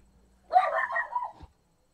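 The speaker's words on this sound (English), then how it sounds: "This dog's a joy in the evenings when she decides to bark." A dog barks once in the room, a short, close, fairly loud bark standing alone against a quiet background.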